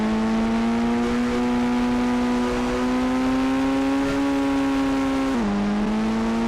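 A car driven in a modded GTA 5 game produces a continuous loud engine drone whose pitch rises gradually, then drops briefly before it steadies again.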